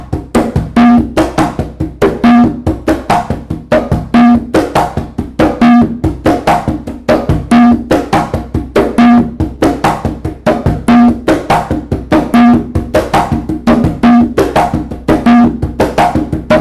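A single drum plays a Latin conjunto rhythm, up to tempo: crisp, close hand strikes in a steady repeating pattern, with a deeper accented tone recurring about every second and a half.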